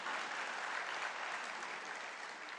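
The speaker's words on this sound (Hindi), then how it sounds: "लेकिन मेरे लिए भी आप तालियां बजा सकते हैं" A seated crowd at an all-India mushaira poetry gathering in Chandigarh claps for the host: a dense, even, continuous roar of applause with no pauses, heard from a short distance.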